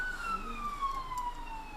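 An ambulance siren passes by, its wailing tone sliding steadily lower in pitch as it moves away, heard at a moderate distance over faint background noise.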